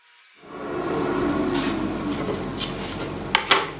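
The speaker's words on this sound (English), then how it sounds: "So I'm working on these two blocks right now on the saw." A saw cuts wooden blocks to length in a workshop, a steady close broadband whir starting after a brief silence and running throughout, with a few sharp knocks near the end.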